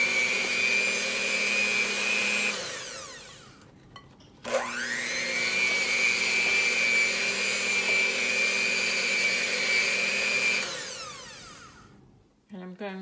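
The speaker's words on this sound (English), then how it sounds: "I'm going to start with this mixer." An electric mixer whirring through orange and olive oil cake batter, two long steady runs broken by a short pause, close and loud, with a brief clatter at the end.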